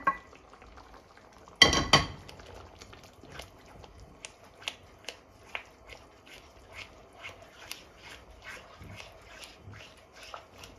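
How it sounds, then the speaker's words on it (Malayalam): Cooked sago is tipped into jackfruit payasam in a pot with one heavy plop near the start, followed by scattered light clinks and taps of a ladle against the pot. "ഇതിലേക്ക് വേവിച്ച് വെച്ചിരിക്കുന്ന ആ ചവരിയുടെ കൂട്ട് ഇട്ട് കൊടുക്കാം"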